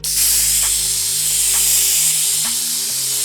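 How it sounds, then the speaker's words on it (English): A can of atmospheric haze spray used for filmmaking lets out a loud, continuous hiss close by, steady for about three seconds with a faint low tone underneath. "They use obviously commercial grade stuff, but atmospheric spray, I just have it because I do filmmaking."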